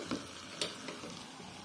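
Yellow spice paste with bay and lime leaves for sempol is stirred in a pan, with a few soft spoon scrapes over a quiet, steady sizzle.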